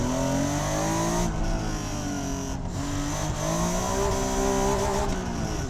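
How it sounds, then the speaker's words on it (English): A 1991 Acura NSX accelerates hard in its long first gear up to the rev limiter. The engine howl rises steadily and loudly, then holds at the limiter with slight stutters, and a faint tire squeal is heard. "A little bit of oversteer, a little bit on the rev limiter there."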